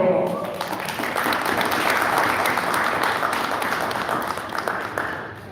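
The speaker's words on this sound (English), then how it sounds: "please give them a round of applause." Applause from the audience at an immigration summit, a full, steady wash of clapping from a sizable crowd that swells and holds for several seconds, with a voice briefly audible at the start.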